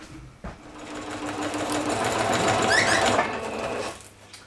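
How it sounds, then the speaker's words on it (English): Close by, a sewing machine runs steadily for a few seconds as it sews Velcro onto the floor of a Baker-style tent, with a loud, continuous whirring rattle. "Now I sew the Velcro to the floor of the tent."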